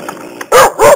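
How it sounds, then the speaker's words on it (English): A robot dog toy, the ROBOTIS PLAY 700 Moody DogBot, gives two loud, close electronic angry barks in quick succession after a brief quieter sound. "So that's the angry dog."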